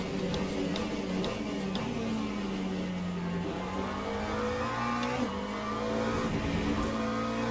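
Hypercars racing past in the Le Mans Ultimate sim at Interlagos, a loud continuous engine drone with pitch rising and falling as cars go by, slight tire noise, with no speech over it.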